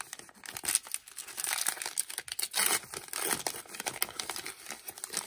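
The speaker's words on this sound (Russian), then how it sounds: "Так, открываем с вами первый пакетик с таким изображением" Crinkly plastic rustling and tearing up close as a packet is pulled open, in short irregular bursts.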